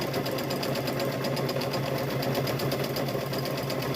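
A sewing machine stitches a seam along the edge of a fabric welding hat, a steady, rapid close-up needle chatter with a low motor hum, loud and unbroken, with no voices.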